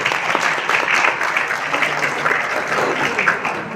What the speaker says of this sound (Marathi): संस्थेचे आपण टाळ्या वाजून अभिनंदन स्वागत करूया